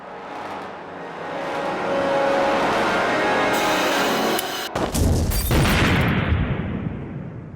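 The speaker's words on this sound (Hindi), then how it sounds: "ये माना जा रहा था कि ये धमाका किसी गैस सिलेंडर" Loud gas cylinder explosion bursting from a steady rumbling noise bed, a sharp sudden blast followed by a heavy chaotic roar and crackling debris that fades out.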